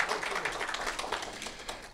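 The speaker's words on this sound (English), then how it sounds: "Let's give them a big round of applause." Conference audience at a music tech event clapping, a brief, fairly quiet patter of many hands at a steady pace.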